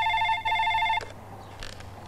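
A telephone rings in a Telugu movie scene, a repeating electronic ring close and clear for about a second before cutting off, leaving quiet room tone with faint rustling.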